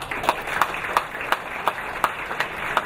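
Audience applause at a college golden jubilee ceremony, a modest patter of hand claps with a few sharp, evenly spaced claps standing out, moderately close and without speech.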